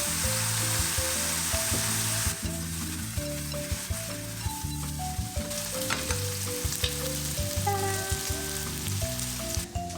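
Eringi mushrooms stir-frying in butter and soy sauce, a loud continuous sizzle with frequent stirring clicks and scrapes against the pan, while background music plays throughout.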